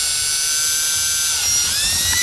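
A power drill with a bit bores a hole through Kydex sheet, giving a loud, continuous high motor whine that shifts pitch briefly near the end as the bit cuts through, with no voices.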